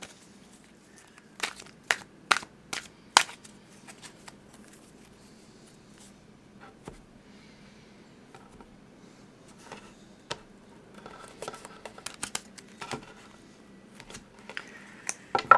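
Quiet, irregular bursts of sharp flicks and papery riffles as a deck of tarot cards is shuffled, clustered in short runs separated by pauses, with no talking.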